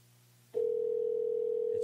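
A telephone ringback tone on a call placed to another person, one steady unbroken tone that starts abruptly after a short stretch of low hum and holds at an even, fairly loud level to the end.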